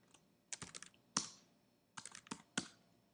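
Fingers typing on a computer keyboard in short clustered bursts of close, crisp key clicks separated by brief pauses, quiet and alone with no talk.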